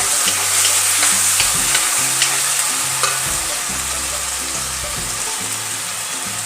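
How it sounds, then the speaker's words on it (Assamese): Tomatoes fry in hot oil for a spicy masala chicken curry, giving a loud, dense, continuous sizzle close up, with occasional light scrapes of stirring and no voices. "বিলাহীখিনি খুব ভালকৈ ভাজি ল'ব লাগিব যেতিয়ালৈকে ই তেলখিনি নেৰে"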